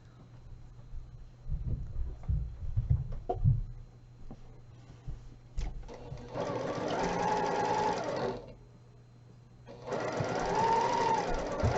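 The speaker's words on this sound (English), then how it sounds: "now I'm going to sew these together and then press in like I was saying" A sewing machine stitches quilt block pieces together in two sustained runs of fast, even mechanical rattling, near and clear, after some quiet handling clicks and thumps of fabric.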